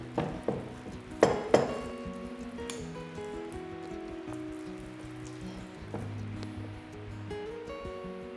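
Focaccia dough ingredients, including honey, being mixed together in a bowl, with a few sharp clinks of a utensil against the bowl followed by soft wet squishing and scattered taps.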